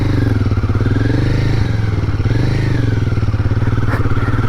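A motorcycle being ridden, its engine loud and close with a rapid pulsing exhaust beat and slight shifts in revs, running continuously with no talk over it.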